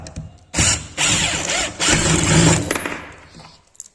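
A Hychika cordless impact driver (350 Nm, 4 Ah battery) drives a headless screw into wood in three close, loud rattling bursts of ratcheting hammering, with short pauses between them, the last and longest burst lasting about a second and a half.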